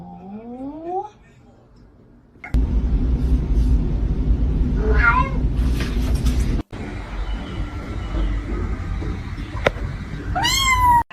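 A cat meows several times in rising, drawn-out calls, some near and loud, over a heavy rumbling background with a person talking in between.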